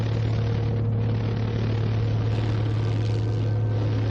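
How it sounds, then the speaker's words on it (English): A small private propeller plane drones overhead, losing altitude fast, its engine a steady, loud, continuous hum with a low tonal note throughout, with no voices. "A small private plane is losing altitude fast."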